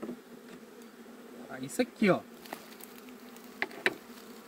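Honey bees give a faint, steady buzz during a colony transfer into a standard hive box. Someone briefly speaks close by.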